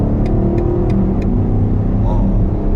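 A BMW XM V8 plug-in hybrid SUV accelerating hard after a drive mode change, heard from inside as a loud, deep, steady engine rumble with a few faint ticks.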